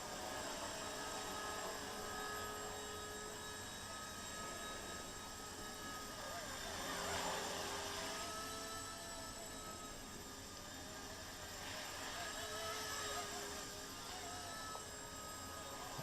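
An Eachine E119 micro RC helicopter hovers indoors with a thin, steady high-pitched rotor whine that swells slightly and fades, faint against room noise and an air conditioner.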